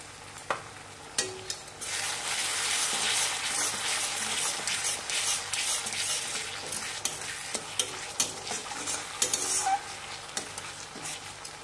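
Ground turmeric and chilli powder being sautéed in a pan for jackfruit kofta curry: a steady bubbling sizzle broken by repeated sharp clicks and scrapes of a spoon stirring against the pan, with no speech.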